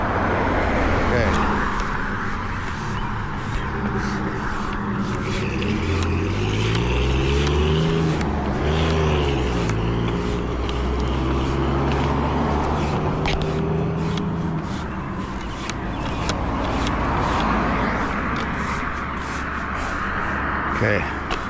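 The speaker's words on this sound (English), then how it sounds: "Let's wait till all these cars go by." Several cars pass by on a street one after another, their engine and tire noise rising and falling loudly nearby, while people talk over the traffic.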